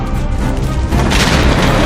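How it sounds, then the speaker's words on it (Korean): Heated cannons explode aboard burning ships at sea, a loud, dense roar of booming blasts and crashes that swells toward the end without any voices. "뜨겁게 달궈진 대포들이 터지기 시작했고 바다 위에 사방으로 포탄들이 떨어졌습니다"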